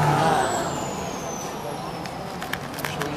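A pickup truck passes on a main street with a steady engine and tire roar that slowly fades. Speech is heard over it, along with a few faint clicks toward the end.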